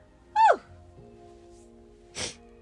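A single sharp sneeze bursts out early, followed by a quieter breathy exhale or sniff about two seconds later over a faint low hum in a quiet room.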